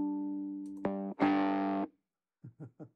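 Electric guitar played through a Chase Bliss Audio x Benson Amps Automatone preamp with the low mids boosted, giving a distorted tone: a sustained chord, a brief hit, a louder ringing chord, then three short muted plucks after a pause.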